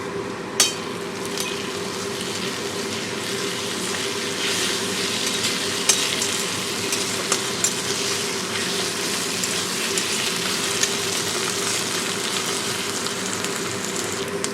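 Onion frying in a pan with garlic and ginger paste, a steady close sizzle with scraping stir strokes and occasional sharp knocks, continuous throughout with no voices.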